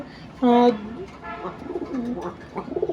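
A black pigeon gives a loud, close coo followed by softer throaty cooing, with a voice talking in the background.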